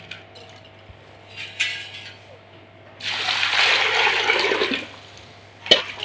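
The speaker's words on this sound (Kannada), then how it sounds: "ಈಗ ಇದಕ್ಕೆ ಇನ್ನು ನೀರು ಹಾಕಿ ತೊಳ್ಕೊಳ್ತೇನೆ" Bitter gourd pieces being rinsed, with a steady splashing gush of water running for a couple of seconds, framed by faint clinks and light handling noises before and after.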